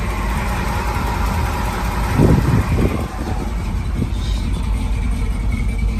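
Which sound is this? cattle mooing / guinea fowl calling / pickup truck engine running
pickup truck engine running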